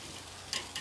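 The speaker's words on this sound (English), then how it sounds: "Nice little crisp, nice sizzling." A prime New York strip steak sears with a faint, steady sizzle, with a couple of brief louder crackles near the end.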